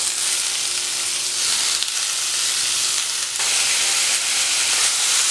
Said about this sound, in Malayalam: ചിക്കൻ ഇതിനകത്തേക്ക് ഇട്ട് കൊടുക്കുക